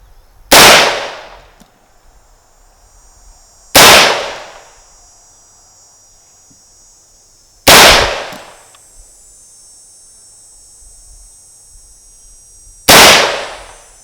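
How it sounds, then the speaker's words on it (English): Four loud, sharp rifle shots from a 450 Bushmaster built by Aero Precision crack at an outdoor range, each evenly spaced a few seconds apart with a brief decaying echo. "This is my 450 Bushmaster by Aero Precision."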